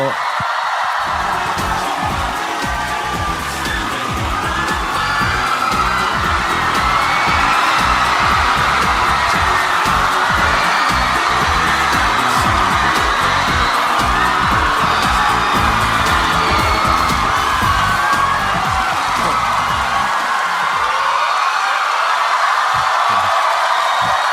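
A Korean TV studio audience welcomes a singer with continuous loud cheering, screams and applause, excited shouts layered throughout and fading slightly at the end.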